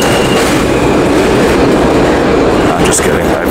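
A New York subway J train rolls past loud and close, a continuous rushing rumble with faint rail clatter and a brief high squeal near the end.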